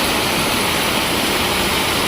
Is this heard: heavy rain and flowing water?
yes